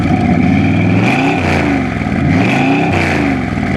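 A 1969 Chevy Corvette hot rod with a ZZ454 big-block V8 and Tremec 5-speed revs up close and loud, its deep rumble rising and falling in several throttle blips.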